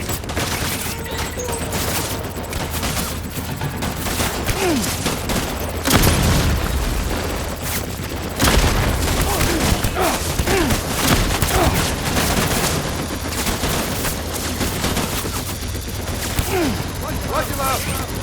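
Dense gunfire and booming blasts fill a battle in Death Stranding, loud overlapping bursts and shots with voices shouting amid the chaos throughout.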